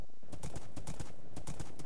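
Horse hooves clip-clop in Minecraft as a ridden horse trots along, a quick, regular run of close, crisp hoof beats with no talking.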